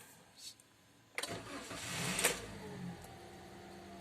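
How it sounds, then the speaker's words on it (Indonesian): A car engine is cranked with the starter during a battery voltage check, a brief grinding crank that catches into a running engine revving briefly, then settling, close by with a voice speaking over it. "Kemudian kita akan starter, kita akan coba lihat berapa voltase yang turun."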